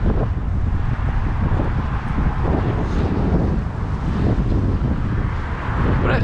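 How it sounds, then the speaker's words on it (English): Strong gusting wind buffets the microphone outdoors near a stadium under construction, a steady low rumbling roar throughout with no speech. "So my apologies if there is a lot of wind."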